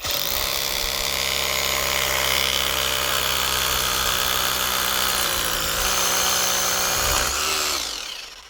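A Leader cordless rotary hammer bores with a 22 mm bit, a loud, steady grinding hammer roar running continuously for about seven seconds before winding down at the end.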